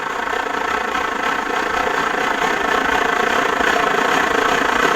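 An SVEA Classic white gas stove burning after priming gives a loud, continuous roaring hiss that holds steady and swells slightly toward the end, with no talking.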